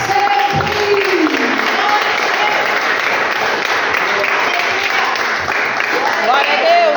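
A church congregation claps during a worship service, a thick continuous applause running throughout with a voice calling out over it near the start and again at the end.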